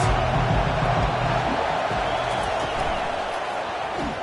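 Stadium crowd roar from a college football video game, Wisconsin at Nebraska in Big Ten play, a loud, steady wash of cheering on a big third down that fills the whole stretch without letup.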